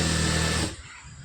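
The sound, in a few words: sewing machine stitching a folded blue fabric strip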